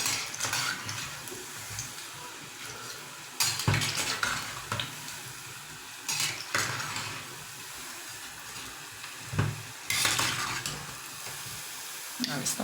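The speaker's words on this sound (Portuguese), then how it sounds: "Pra fritar elas, pode tirar do freezer, deixa dar uns 10 minutinhos fora do freezer e com a banha bem quente" Frozen coxinhas fry in very hot lard. A soft, steady sizzle plays at modest volume, punctuated by occasional louder bursts and clatter from utensils moving in the pot.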